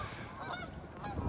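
Geese honk in a brief, close cluster of nasal calls outdoors on a windy day, the calls overlapping over a low rumble of wind.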